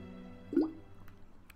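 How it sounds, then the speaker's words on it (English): Water sloshes inside a water bottle, a single short gurgling squish with a rising wet tone, faint and close against low background hum. "That was the water in my water bottle. That was a very, very weird noise."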